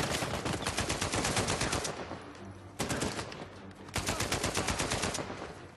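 Rapid automatic gunfire in the video game Uncharted 4: A Thief's End, loud sustained bursts of machine-gun shots broken by brief pauses.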